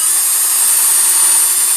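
A 7.62x54R brass rifle case, freshly sized and chucked in a power drill, spins steadily against a trimming tool, giving a continuous high, bright whirring grind that holds level without pause.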